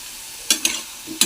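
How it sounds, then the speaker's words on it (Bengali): Spice masala with turmeric, salt, cumin and green chilies frying in a pan, a low sizzle broken by three sharp scraping stir strokes, close and clear with no talking. "ভালো করে মশলাটাকে আমি কষিয়ে নিলাম।"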